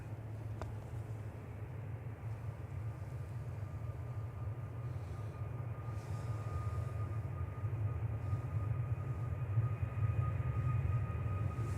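A TUI Boeing 737 Max 8 departs Manchester Airport, its engines producing a steady low roar in the distance that slowly grows louder over the whole stretch.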